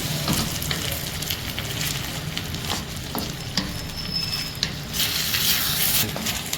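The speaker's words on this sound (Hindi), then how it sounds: "मटर, एक अच्छा सा मिक्स देते हैं।" Green peas stirred and frying in a pan for vegetable Schezwan fried rice, a steady close sizzle with scraping spoon strokes throughout, no voices.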